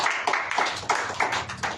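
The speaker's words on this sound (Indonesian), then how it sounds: "Beri tepuk tangan buat diri sendiri." A church congregation claps at a Sunday service, giving a short round of irregular claps with a few louder beats, at moderate volume.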